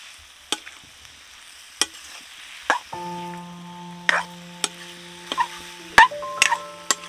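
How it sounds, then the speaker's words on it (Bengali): A spoon scrapes and clicks against a pan while bottle gourd (lauki) is stirred, giving sparse, sharp taps and knocks spread across the clip, with a soft steady hum in the background. "লাউটা ভালো করে একদম নেড়ে চেড়ে নিয়েছি"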